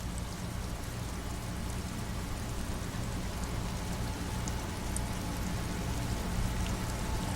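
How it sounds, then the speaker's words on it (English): Steady, even rainfall in the video game Disco Elysium hisses throughout, with scattered drops pattering on surfaces and no voices. "Rain drips from the eaves and floods the gutters,"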